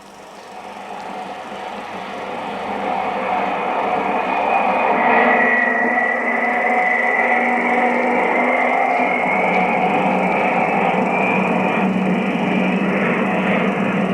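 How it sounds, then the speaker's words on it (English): Two Rolls-Royce jet engines mounted horizontally in opposition on the Flying Bedstead test rig swell from a low rumble into a loud, sustained whine and roar that holds steady with slight pitch shifts. "The Flying Bedstead is powered by two Rolls-Royce mean engines, set horizontally in opposition"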